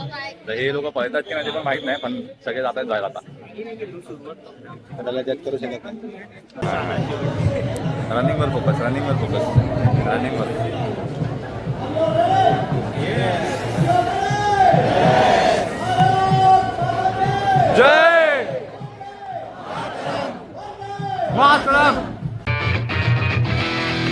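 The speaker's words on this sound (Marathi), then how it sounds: "खूप गर्दी आहे बाई खूप गर्दी बेकार खूप गर्दी" Large, dense crowd gathered at the start of the Dombivli Friendship Marathon, loud overlapping voices and shouts swelling after a quieter opening, with a nearby voice talking over the din.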